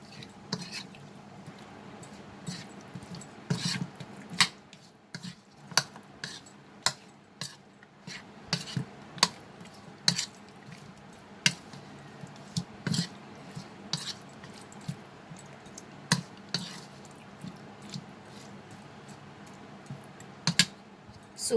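Chicken pieces and French beans being mixed by hand in a bowl, producing a run of soft, irregular clicks and wet squishes close by, with occasional sharper knocks against the bowl.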